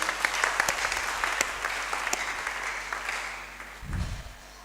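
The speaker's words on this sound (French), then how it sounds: "On peut applaudir la parole du Seigneur." A church congregation applauds during a French-language sermon, a dense wash of clapping that fades somewhat toward the end, with a brief low thump near the close.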